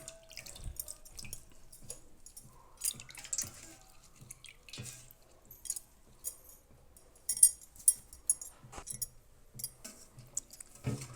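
Water running and dripping as cooking vessels are rinsed at a home sink, with scattered splashes, drips and light metallic clinks of pots, close and moderately loud, no talking.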